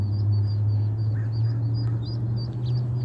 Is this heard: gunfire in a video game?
no